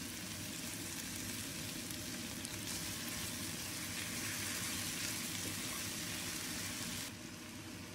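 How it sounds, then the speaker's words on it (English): Ginger, garlic and onions sauté in a hot pan after fish has been fried in it, a steady, even sizzle and hiss that carries on throughout at moderate level, with no speech. "After frying our fish, we saute our ginger,"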